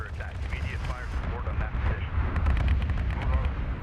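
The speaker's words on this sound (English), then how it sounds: "I do just love the sound of a gunship doing its work" An AC-130 gunship in the strategy game Homeworld: Deserts of Kharak strafes a position with heavy, rumbling gunfire. Rapid thudding bursts pile into a dense roar under a voice.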